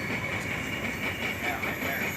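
A BNSF freight train from Kirk Yard to Iola rolls past on the tracks, a steady close rumble with a continuous hiss and faint clatter throughout.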